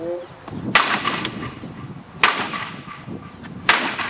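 A carved dragon walking stick is struck hard against an oak pallet three times, each blow a sharp, loud crack spaced over a second apart, with a quiet outdoor background between hits.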